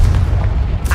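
Confringo fire spell exploding in Hogwarts Legacy, a short, loud, low rumbling boom that fills the whole second with a slight crackling burst near the end.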